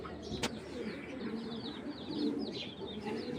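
Tiger-coloured racing pigeons coo in low, throaty rolls close by, with a sharp click early on and faint chirps in the background.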